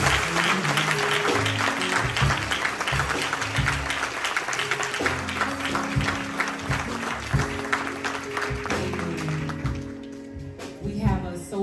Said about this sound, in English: Let us give the United States military a round of applause at this time.